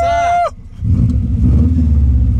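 A car's engine revs up sharply, Subaru-like in tone, after a newly converted ignition coil, a loud low growl rising and holding steadily after a brief voice-like whine at the start.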